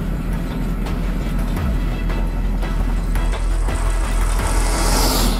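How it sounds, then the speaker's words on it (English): A fast car in a speed record attempt roars past at speed, a loud sustained engine and road rush that swells and brightens toward the end as it nears, with no talk. "he just kind of got that perfect fast car noise as he went past it"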